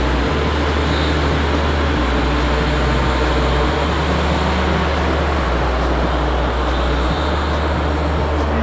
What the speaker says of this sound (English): Look at the swarm of planes.